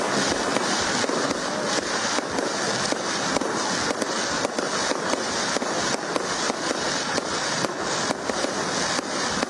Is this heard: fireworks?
yes